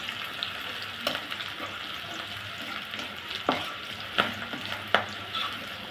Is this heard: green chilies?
yes